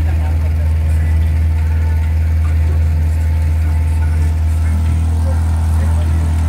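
A speed boat engine in the Andaman Islands idles with a loud, deep, constant drone close by, while a voice talks over it.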